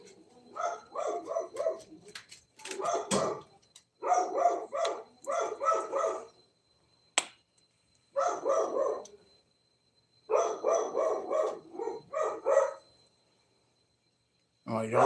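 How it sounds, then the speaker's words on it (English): A dog barks indoors from a short distance off, in repeated quick bursts of several barks separated by short pauses and continuing through the whole stretch, with no talk over it. "My dog's going crazy."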